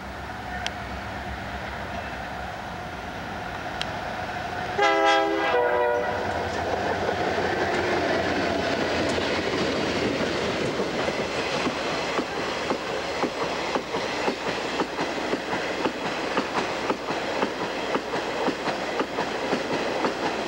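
A CSX freight train, an extra iron highway train on the Plymouth Subdivision in 1996, rolls steadily past nearby with continuous wheel clatter and rumble, and a brief tonal blast comes early in the pass.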